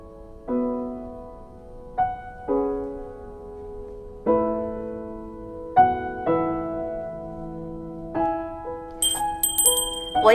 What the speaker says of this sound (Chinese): 我一摇铃铛，你必须马上出现。